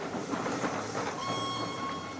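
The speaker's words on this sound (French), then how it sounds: "les trains à vapeur et les ânes en retraite." A steam train on a heritage tourist line in the English countryside rumbles past at steady volume, with a broad wash of rolling rail noise and a thin sustained whistle tone joining partway through.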